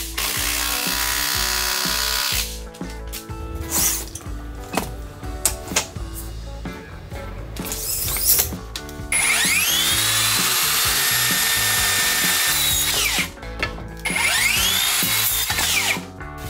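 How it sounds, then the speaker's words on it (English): A power tool retightens framing bolts during solid-wood house construction, running in several loud, close bursts of whirring drive with short pauses and brief knocks between them. "I retighten the bolts once I have set up the scaffolding"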